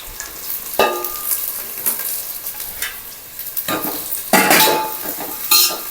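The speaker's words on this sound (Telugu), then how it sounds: "నూనె బాగా వేడి కావాలండి. ఉల్లిపాయలు కొంచెం పొడి పొడిగా చేసేస్తే బాగా వేగుతాయి తొందరగా." Onions frying in hot oil while homemade Tadipatri-style biryani is cooked, a soft sizzle broken by several sharp bursts of stirring and scraping of a utensil against the pan.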